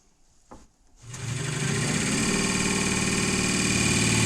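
A new wood lathe turning an ash salt mill blank spins up after a soft click, rising to a steady, loud mechanical whir with a hum that holds constant and close.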